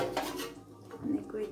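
Stones are set onto a pot lid covering steaming fish, producing a few brief, close clunks and clatters over a murmur that may include a faint voice.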